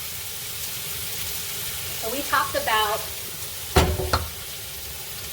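Beef short ribs, rubbed with five-spice, hit a hot pot for a Vietnamese braise, giving bursts of close sizzling and searing crackle with stirring, while a person talks briefly over the frying.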